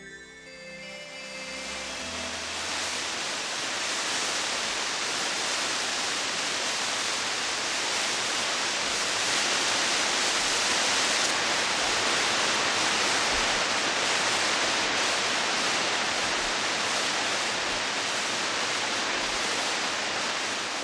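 Bulil waterfall on Jirisan roars as a dense, steady rush of falling water, loud and continuous throughout, building up over the first couple of seconds, with no voices.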